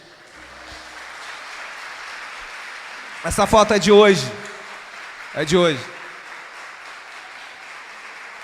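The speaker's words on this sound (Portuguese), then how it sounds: "Pode aplaudir a Jesus" A congregation at a family church service applauds steadily, a broad continuous wash of clapping running the whole time while someone speaks over it in bursts.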